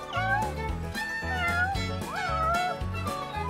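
Cats meow repeatedly in the video game Princess Connect Re:Dive, rising and falling over a steady pulsing music track.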